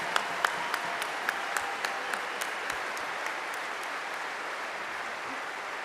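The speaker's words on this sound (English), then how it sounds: "big, big round of applause." Audience applause at the Invictus Games 2022 closing ceremony sounds fairly soft and distant, with crisp individual claps in the first half before it thins into a quieter wash.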